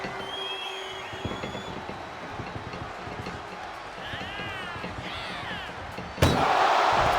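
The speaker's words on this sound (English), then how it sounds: "Doing their best just to shut that first door" In a WWE 2K25 ambulance match video game, scuffling and thumps of a struggle, then a loud ambulance door slam near the end, followed by a harsher, louder noise.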